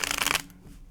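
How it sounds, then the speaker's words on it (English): A deck of tarot cards being shuffled, a rapid close riffle of fluttering card edges lasting under half a second, then a soft settling rustle. "One more shuffle."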